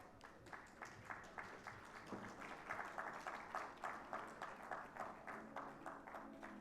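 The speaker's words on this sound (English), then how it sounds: "so huge round of applause to the entire team for winning this award." A corporate award ceremony crowd applauds team winners in a fairly faint, even, rhythmic clapping that pulses in a regular beat rather than a scattered roar.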